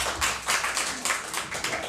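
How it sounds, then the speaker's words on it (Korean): A worship congregation in a church claps their hands in a steady rhythm, about two claps per second, loud and close with no voices over it. "존귀한 이름을 박수로서 찬양하도록 하겠습니다"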